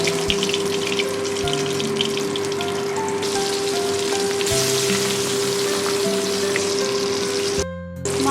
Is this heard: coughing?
no